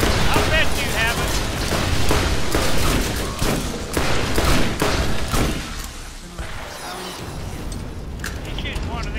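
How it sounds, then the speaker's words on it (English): Gunfire in the Borderlands co-op shooter, a dense fusillade of rapid shots and booms that rolls on for several seconds and then eases, with players talking over it. "He's shooting one of them twisties up there."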